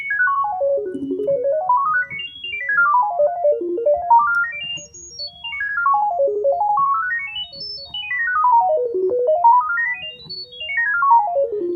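A Yamaha Montage keyboard plays a fast arpeggio with a doubled tone. The pattern runs steadily up and down in repeating sweeps, loud and close, with no voices.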